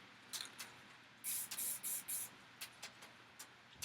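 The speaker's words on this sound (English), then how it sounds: "just lightly dabble around with spraying some stars" Short, quiet hissing bursts from a spray can, a run of quick spritzes followed by lighter scattered puffs, with no voices.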